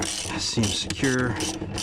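A ratchet snugging down the battery bracket on a BMW X3, a brief close burst of mechanical clicking under garage background noise.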